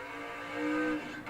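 An Oldsmobile Calais drag racing car accelerates at a drag strip, heard as a short, moderately loud engine whine that swells and then fades away within about a second, with no voices.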